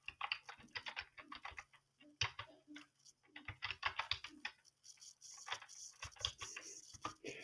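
Rapid clicking of a computer keyboard being typed on, close and steady in irregular bursts with short pauses, no voices.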